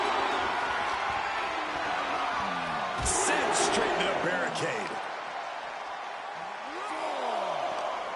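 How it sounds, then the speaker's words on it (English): A wrestling video game arena crowd roars and cheers steadily in the background while a commentator talks over it, with a loud slam partway through. "This capacity crowd is beside themselves tonight."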